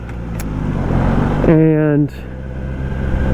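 Kawasaki ZX10R motorcycle, a 2021 model, downshifts with an auto blipper: a steady engine drone under talk gives way to a brief, loud rising rev blip with strong harmonics, then drops back to the drone.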